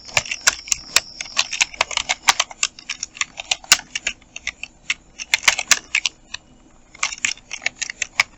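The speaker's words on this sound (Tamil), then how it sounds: "இப்போ நம்ம எல்லாத்தையும் டைப் பண்ணி வச்சுருக்கோம்" Rapid, uneven clatter of keys on a computer keyboard, close and crisp, in bursts with brief pauses while designing a visiting card in Photoshop.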